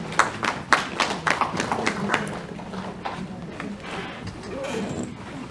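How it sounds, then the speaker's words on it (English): Scattered claps from an audience at an award ceremony, a handful of distinct, uneven hand claps early on fading into a murmur of room noise and movement. "A big applause for him."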